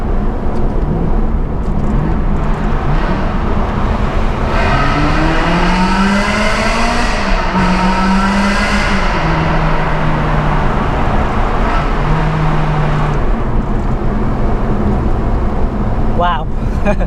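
A Ferrari 360 sports car accelerates hard nearby, its engine note climbing and holding high over a steady loud roar of road and wind noise, then easing back before a brief sharp squeal near the end.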